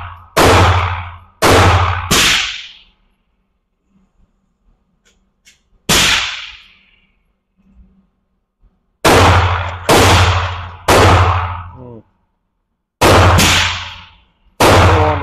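9mm gunshots ring out outdoors, loud sharp cracks fired in pairs and singles with short gaps and quiet pauses between strings, each shot trailing a brief echo.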